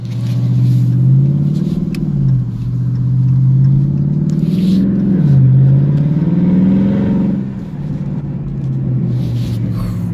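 Dodge Scat Pack exhaust with the mid-muffler and resonator deleted, rumbling up close with deep revs that rise and fall several times, loud and raspy, with no voices over it.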